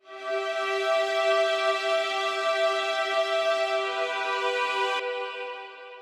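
Violin processed with delay, EQ and chorus in FL Studio, one long bright sustained note ringing steadily for about five seconds before shifting and fading, heard alone without talk.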